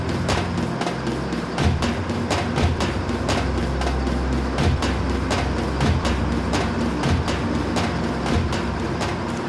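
The Serra Verde Express train in Brazil rumbles along steadily with a continuous low roar and rhythmic clickety-clack of wheels over rail joints, heard from inside or close by.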